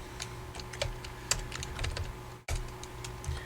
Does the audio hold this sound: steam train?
no